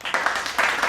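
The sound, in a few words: applause, people clapping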